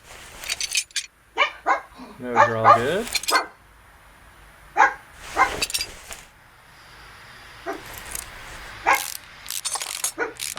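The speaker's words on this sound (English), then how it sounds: "My guard dog's in the background." A guard dog barks in short bursts in the background outside a property, with a few separate barks and a brief clustered run, while someone talks over it.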